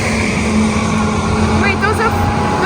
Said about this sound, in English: There's so many trucks passing by.